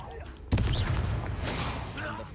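Spell blasts such as Confringo cast in the Hogwarts Legacy video game: a sudden loud burst, then sustained crackling blast noise, with a second flare near the end; no speech is heard.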